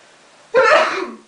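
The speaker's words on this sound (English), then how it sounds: "I'm going to sneeze here." A single sharp sneeze bursts out close by after a moment of near silence, then fades quickly.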